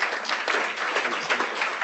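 An audience at a membership meeting applauds, a dense, steady patter of many hands clapping at moderate volume for about two seconds.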